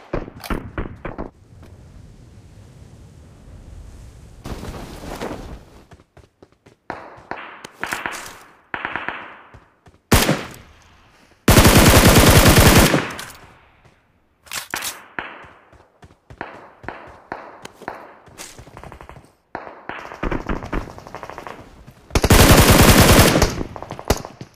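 Bursts of automatic and single gunfire from the PUBG Mobile battle royale game, loud and sharp, with long sustained volleys interrupted by shorter rapid shots and brief pauses, no talking.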